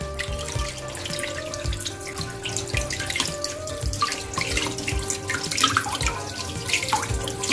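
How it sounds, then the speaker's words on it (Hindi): Running tap water splashes steadily into a metal strainer as raw fish pieces are rinsed at a kitchen sink, a continuous close gushing with small clatters and drips throughout, no talking. "इसी तरह मैं ये यहाँ पर बाकी की भी फिश को धो लूंगी।"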